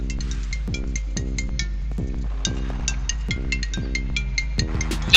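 A mobile phone rings with an incoming call from a Tasslock vehicle anti-theft alarm fitted to a motorbike, its electronic ringtone repeating in a steady looping pattern of tones, loud and continuous with no voices.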